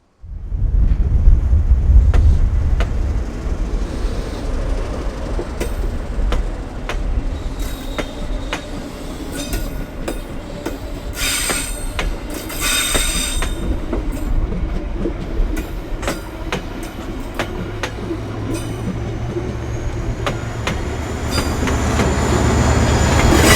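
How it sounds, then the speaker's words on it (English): An emptied passenger train departs, rumbling steadily past, wheels clattering and occasionally squealing, with a broad low roar that swells toward the end. No voices. "the now empty train soon left for a run to Westfield Yard"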